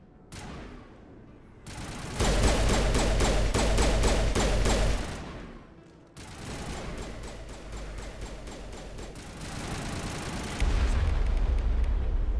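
Rocket blasts and heavy gunfire from a Mass Effect firefight crash in loud, dense bursts, broken by a short lull before the barrage resumes and swells again near the end.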